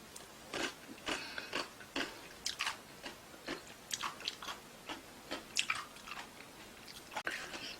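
Someone chewing squid with vinegar dressing close to the mic, a run of soft, wet, irregular bites and chews, quiet and without talking.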